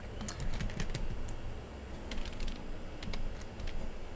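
Typing on a computer keyboard, a quiet run of light clicks and taps in short irregular bursts over a steady background hum.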